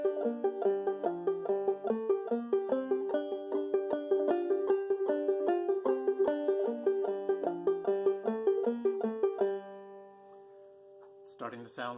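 "Pretty Little Dog" is picked on a banjo with a thumb-played fifth string added after each melody note, making a bright, bouncy run of plucked notes up close that rings out to a fade, followed by a quick strum.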